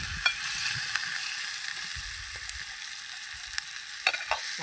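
Food sizzles steadily in a hot pan during a village-style sauté, with scattered scraping clicks of a spoon stirring the ingredients; no talking.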